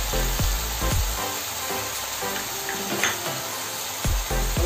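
Tomato puree fries in hot oil in a pan while cooking chicken tikka masala gravy at home, a steady close sizzle with occasional scraping stirs of a spoon, and no one speaking.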